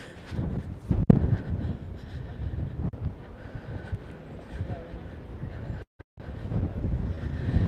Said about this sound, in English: sorry about the noise of the wind there.